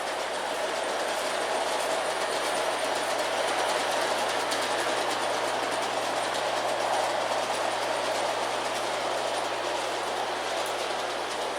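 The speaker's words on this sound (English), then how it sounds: "Now it's waiting for that black engine to go through the crossing." An LGB garden-scale model train engine rolls steadily over the track crossing, a continuous mechanical whirr with faint rhythmic clicking of wheels on rail joints, close and unbroken throughout.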